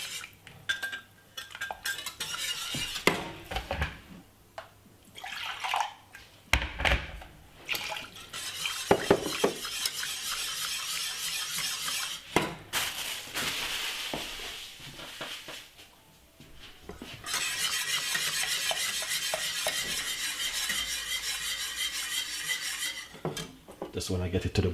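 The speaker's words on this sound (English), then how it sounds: "Give it a lovely whisk." A whisk stirs cornmeal porridge in a pot, clinking and scraping against the metal in bursts, with steadier liquid swishing later on and no talk over it.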